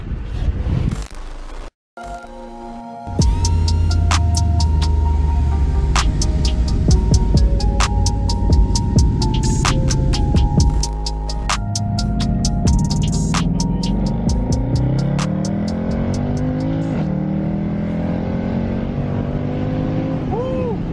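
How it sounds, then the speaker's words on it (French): A Mercedes C63 AMG W204 with its V8 revs hard after a brief cut, the engine roaring loudly and steadily through rising gear pulls with crackling bursts, heard from inside the cabin. "Surtout, on va écouter la belle mélodie du V8."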